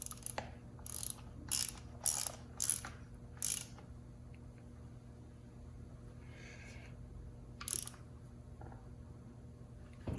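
A hand ratchet tightens a part during engine assembly on a 1974 Triumph TR6, a quiet, close series of quick clicking strokes in short bursts, then a pause and one more brief run of clicks.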